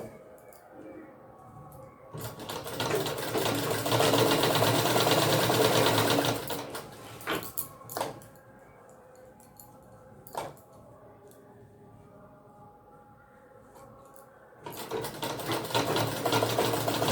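A sewing machine runs loud and close while sewing a zipper into a lehenga waistband, with two sustained bursts of stitching, a few brief clicks and quieter handling between them, then starting up again at the end.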